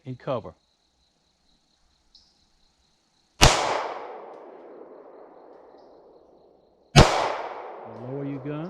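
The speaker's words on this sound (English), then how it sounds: "We're going to draw and we're going to fire 2 rounds." A Ruger LC9 pistol fires two sharp, loud shots several seconds apart outdoors, and each crack rings away in a long fading echo. Brief speech comes before the first shot and again at the end.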